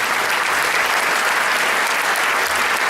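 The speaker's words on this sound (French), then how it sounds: "Alexandre Garcin, que vous pouvez faire un double applaudissement" Audience at a zero-waste conference in Roubaix, Pays de Savoie, applauding loudly and steadily as a presenter is welcomed, a dense continuous wash of clapping with no break.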